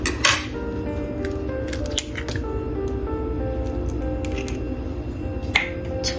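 An egg being mixed into chicken marinade in a bowl with a spoon: steady wet squishing with light clinks of utensil against the bowl, close and continuous, no talking.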